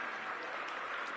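An audience at a ribbon cutting for a new recreation center claps in a steady, even wash of applause that stays at one level for a short moment.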